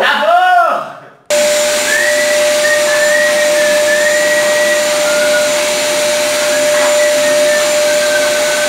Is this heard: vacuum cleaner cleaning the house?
yes